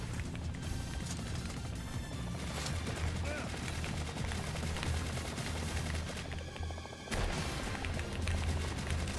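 Dense, continuous gunfire and explosive rattling in the video game Palworld during an airstrike, loud and sustained throughout with a brief dip before the barrage resumes, voices faintly mixed in.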